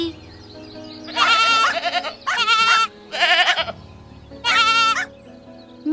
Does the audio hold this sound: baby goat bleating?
yes